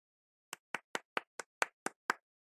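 Eight crisp hand claps land in a steady, even rhythm, close and loud against otherwise complete silence.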